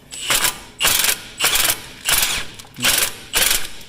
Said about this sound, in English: I get my 70mm socket.